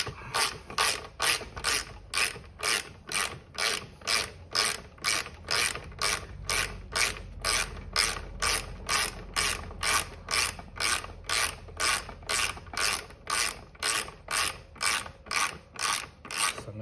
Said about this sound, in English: So I'm just about tightening this up.